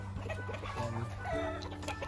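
Chickens on a backyard breeder's chicken farm in Lipa, Batangas cluck repeatedly in a close, busy chorus of short calls that overlap throughout.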